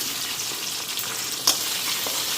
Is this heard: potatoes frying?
yes